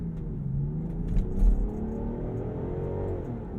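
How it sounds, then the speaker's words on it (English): A 2021 Land Rover Defender 110's smooth six-cylinder engine hums and rises in pitch as the vehicle gathers speed, with a steady low rumble and a brief bump midway. "The 6-cylinder sounds nice."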